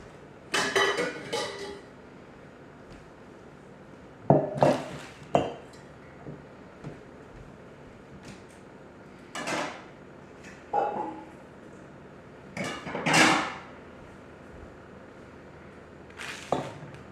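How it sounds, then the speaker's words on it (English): A cutting board, knife, peeler and bowls are set out in a home kitchen. Scattered, separate knocks and clatters of utensils and dishes are placed down close by, with quiet gaps between them. "I'm going to get a cutting board and a knife and a peeler and some bowls."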